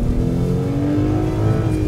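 A car engine revs steadily up close, its pitch climbing slowly throughout, loud and continuous with no talk over it.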